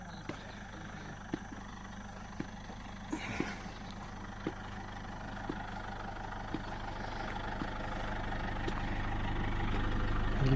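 A Toyota Vigo pickup truck engine runs on a farm, a low steady rumble that grows gradually louder over ten seconds, with scattered light clicks and knocks on top.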